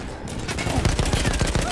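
A quick, loud burst of rapid machine-gun fire from a flying combat game, with closely spaced shots in a steady rattling rhythm through the whole moment.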